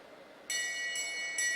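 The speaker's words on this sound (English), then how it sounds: "And the bell rings." Bell rung at a track cycling race during a masters national championship, bright metallic clangs in three quick bursts, loud and close, ringing over a quiet background with no talk.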